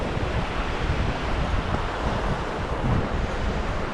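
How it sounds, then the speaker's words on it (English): A small river runs beside a trail near South Fork Falls, its water rushing as a steady, dense wash of broadband noise. The sound stays close and continuous throughout, with no voices. "we get to walk along this cool little river."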